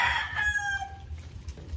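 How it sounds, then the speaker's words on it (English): A rooster crows once, a drawn-out call that fades, heard somewhat distant over a steady low engine-like rumble, with no talking. "See the roosters?"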